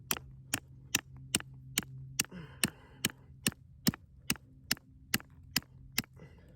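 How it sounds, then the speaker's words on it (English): A Mora Companion knife blade struck hard with a large rock rings out in sharp, evenly spaced cracks, about fourteen close impacts at a steady beat over quiet background. "I was hitting this blade pretty hard with that rock."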